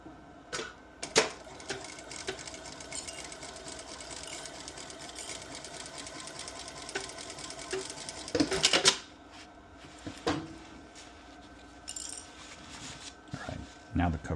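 A sewing machine runs a cover stitch along a bucket hat, a steady mechanical whir with rapid needle ticking that continues throughout, broken by louder clunks and short bursts near the end.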